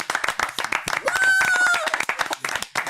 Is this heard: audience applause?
yes